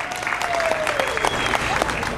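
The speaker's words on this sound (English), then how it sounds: "Let's clap for Jeff from Impress Art." Audience applause at a craft trade show event, a close, dense burst of clapping from a small crowd, sustained throughout with a faint tonal whistle over it.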